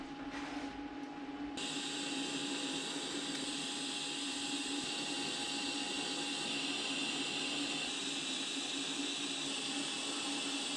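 Steady, loud welding hiss and crackle on an aftermarket car part, running continuously for the whole stretch after a brief start, with no talk.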